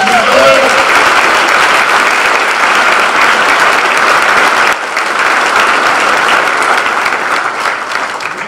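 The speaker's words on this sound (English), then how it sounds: "One more time, please, a round of applause." Sustained, loud audience applause at a 2019 breakfast event, a thick continuous roar of clapping that dips slightly midway and carries on steadily to the end.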